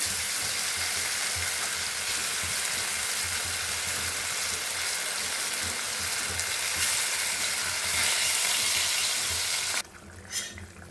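Salted, chili-rubbed fish fries in hot oil, a loud, steady sizzle with occasional stirring clatter that drops away sharply near the end.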